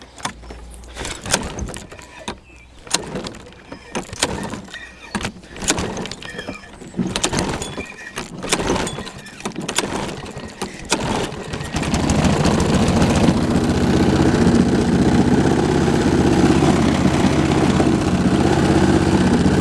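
A lawn mower engine being started for a first mowing: a series of irregular pulls and sputters, then the engine catches and runs with a steady, loud drone to the end.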